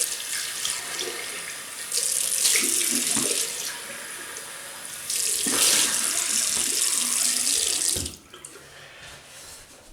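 Tap water running into a sink while rinsing off after a shave with mug shaving soap, loud gushing in bursts that swell and fade, stopping near the end.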